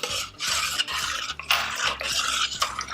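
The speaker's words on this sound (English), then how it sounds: "So we're gonna go ahead and stir that real nice and get that all blended up." A spoon stirs store-bought yogurt into milk in a pot, making repeated rhythmic scraping and clinking strokes that sound close and fairly loud.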